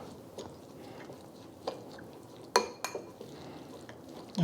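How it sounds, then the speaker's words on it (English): Oil and ingredients stirred in a pan for Hainan chicken, giving faint, low scraping and soft squishing with a few sharper clinks of a utensil against the pan near the middle, without talk. "And we're just going to stir that up."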